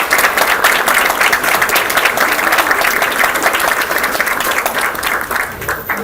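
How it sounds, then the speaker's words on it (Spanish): Loud, dense applause from an audience at a university constitutional law lecture event, continuous clapping filling the whole stretch before easing slightly at the end. "a quien recibimos con fuertes palmas"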